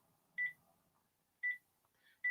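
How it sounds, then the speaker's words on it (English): Telephone keypad dialing tones, three short crisp DTMF beeps spaced about a second apart, close and clean over near silence. "we're going to be making a phone call right now"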